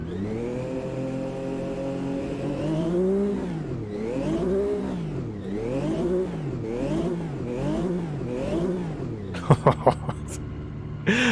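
Turbocharged race car engine in Automobilista 2 revving repeatedly, rising and falling in steady pulses after an initial idle, loud and close, with a few sharp clicks near the end.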